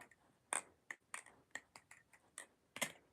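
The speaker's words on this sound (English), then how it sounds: "Everybody that flips a Balisong knows that flip is just like that clicking noise." A balisong butterfly knife being flipped gives about a dozen sharp, crisp metallic clicks in an irregular quick rhythm, close and clear against a quiet background.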